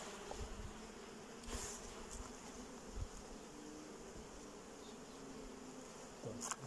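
Honey bees buzz steadily around hive frames being shaken during acacia bloom, a dense continuous outdoor drone with faint shuffling handling noises and no talking.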